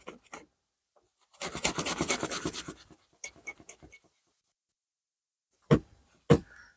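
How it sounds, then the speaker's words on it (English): A cloth rubbing and buffing a split cane fishing rod during restoration, a dense rasping stretch of steady strokes for about a second and a half, then sparse scuffs and two sharp knocks near the end, close and alone. "we'll continue to rub it with the cloth. This is what really buffs it up and polishes it."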